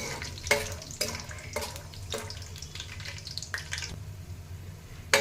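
Peanuts frying in a pan over low to medium heat for garlic chitranna, a steady sizzling crackle with repeated louder scrapes of stirring, close and continuous with no voices.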